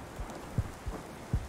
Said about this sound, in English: Why's my heart beating?